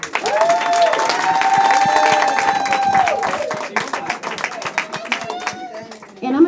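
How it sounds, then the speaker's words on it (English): Graduation audience at a media school claps and cheers close by, a loud burst of applause with a sustained musical tone underneath that tapers into scattered individual claps. "Another round of applause for them."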